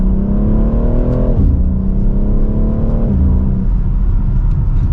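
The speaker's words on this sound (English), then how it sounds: "Very light acceleration, but it's still quick and gets up to speed" A 2024 BMW X3 M Competition SUV accelerates hard from inside the cabin, its engine note rising steadily then dropping at each gear shift, two shifts in quick succession, loud and continuous with no voices.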